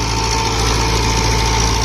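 A 60 HP tractor engine runs steadily with its PTO spinning, a loud, close, continuous diesel drone with an even mechanical hum and no pauses.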